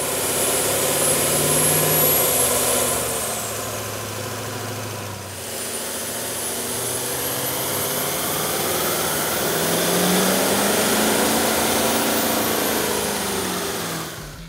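A Chevy Silverado or GMC Sierra 2500/3500 HD 6.6L truck engine with a K&N aftermarket air intake runs steadily and loud with a deep, throaty drone, revving up and settling back a few times, with a hissing intake rush above it.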